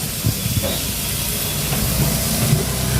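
Chopped onions sizzle in hot oil as a mushroom curry gets started, the hiss close and steady throughout, with a few soft pops and knocks underneath.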